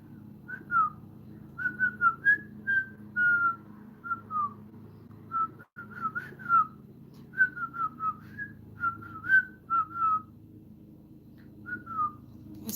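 A person whistles a march-like tune alone in a series of short melodic phrases with brief pauses, fairly close and moderately loud, with a low steady hum underneath.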